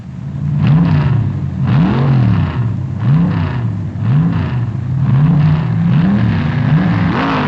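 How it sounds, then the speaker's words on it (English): A funny car drag racer at the 1968 NHRA US Nationals blares a loud, close engine roar that rises and falls in repeated revving surges about once a second, with a slightly dull, old-recording tone and no talk. "Bruce Larson, turns in impressive speeds with his fierce new funny car that becomes an immediate favorite with the crowd."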